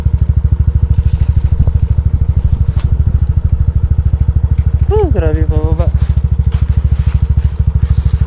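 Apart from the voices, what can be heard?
motorcycle riding downhill, brakes heating up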